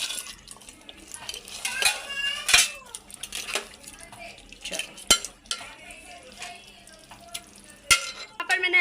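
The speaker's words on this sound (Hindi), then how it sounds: "और मिक्स करते हैं इसको अच्छे से, और साथ ही में हम इसके ये क्रैब्स केकड़े ऐड करेंगे।" Crabs are added to a crab curry in a metal pot and stirred, producing close, irregular clanks and scrapes of a utensil against the pot over a faint simmer.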